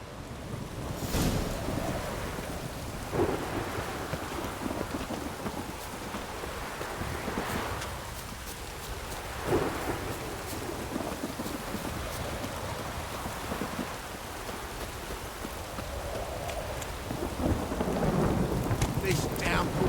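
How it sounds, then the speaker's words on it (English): Rain pours steadily in The Witcher 3 while thunder rolls and cracks several times, the storm loud and continuous with wind-like rushing throughout. "This downpour's a bastard"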